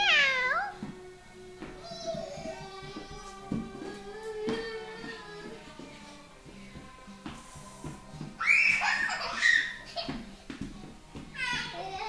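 A child's high-pitched voice imitates a cat's meow several times, mixed with other children's chatter and playful noise nearby.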